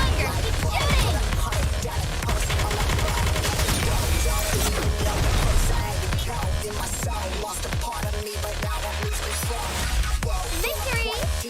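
Rapid gunfire from the video game Nikke, dense continuous shooting packed with sharp transients over a full game soundtrack, with a voice talking at times.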